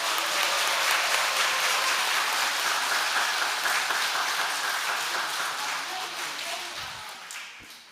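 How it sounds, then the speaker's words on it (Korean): Sustained applause from an audience welcoming a priest lecturer at a Catholic church Advent talk, dense steady clapping that fades gradually toward the end. "큰 박수로 환영해 주세요"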